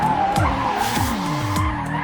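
A race car driven with automated steering and brake control skids, its tires squealing in repeated sweeping bursts over a steady engine drone, loud and close.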